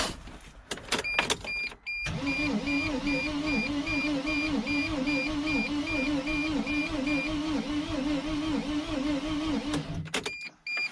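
A 2006 T1N Sprinter diesel that won't start cranks over for about eight seconds, a steady, rhythmic whirring starter drone close by, preceded and followed by a few sharp clicks and knocks.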